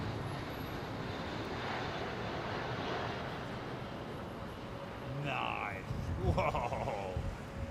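An airliner lands at Heathrow in strong headwinds, a faint, distant, steady roar of jet engines and wind, with a voice briefly speaking near the end.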